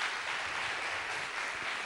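An audience at a talk applauds in a dense, steady wash of clapping that holds evenly for a couple of seconds, fairly faint and without voices.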